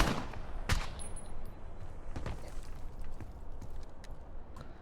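A single sharp gunshot fired at a target in a video game, cracking once near the start, with fainter hits trailing after over low background noise.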